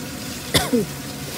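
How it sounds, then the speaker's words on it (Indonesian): A single short cough, close and somewhat throaty, against a steady low background hum. "Ini saya masih ada sedikit batuk ya."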